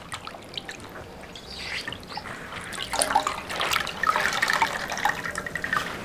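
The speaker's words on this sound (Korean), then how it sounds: "제가 물을 바꿔서 한 번 더 헹궈 보겠습니다." Naturally dyed fabric rinsed in a basin of fresh water, close sloshing and splashing that builds from gentle trickles to busier swishing and dripping, with no voices.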